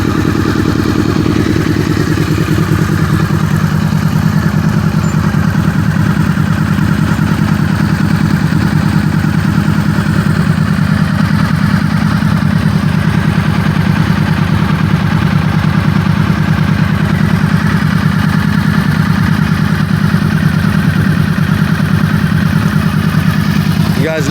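A custom fifth-generation Honda VFR800 fi motorcycle idling at about 1,000 RPM with the choke off, a steady loud low mechanical drone with light clatter, close up, and a voice talking over it.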